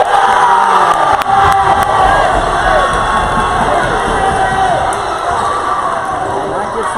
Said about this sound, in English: And that gets the crowd into it.